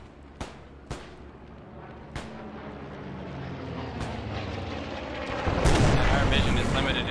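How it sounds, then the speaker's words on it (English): Incoming artillery in the World War 2 video game Post Scriptum lands as several sharp distant blasts spaced apart, then swells into a louder, sustained rumbling roar near the end. "Enemy artillery is inbound."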